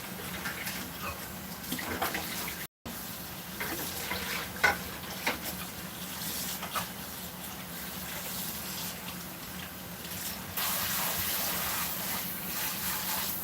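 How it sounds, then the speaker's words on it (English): A mixing bowl rinsed under a running kitchen tap after making pumpkin spice cookies: continuous splashing water with occasional clinks and knocks of the bowl, close and steady, no talking. "I'm going to go ahead and rinse that bowl"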